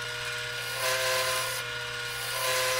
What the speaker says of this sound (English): here I'm just cutting the mortise